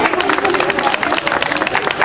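A crowd at a police canine demonstration in Veracruz applauds a police dog, dense and continuous clapping close by with voices mixed in.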